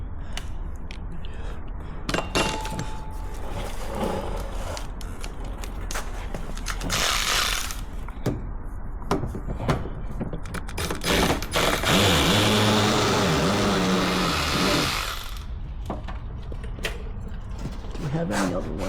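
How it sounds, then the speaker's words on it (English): A hand ratchet working on a fastener, bursts of rapid mechanical clicking and creaking that start and stop irregularly, close by, with people talking intermittently. "let's try with the ratchet"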